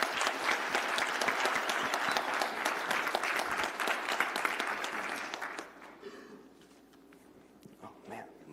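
A conference audience at a hacker event applauds a presenter in a sustained wash of clapping that fades out after about six seconds, leaving quiet room tone with faint stirring.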